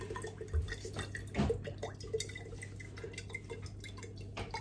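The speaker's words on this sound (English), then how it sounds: "then you put a glass over it like that, and then you pour the coconut over and you wait for the water" Coconut water draining from an upturned coconut into a glass, heard as soft irregular drips and trickles at close range, with a couple of louder splashes early on.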